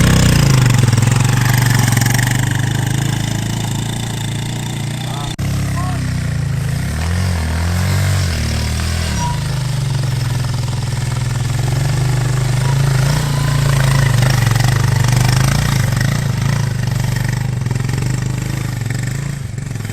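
A motorcycle loaded with plantains runs steadily close by with a continuous low engine rumble. Midway through there is a brief clattering shift, and then the steady drone returns.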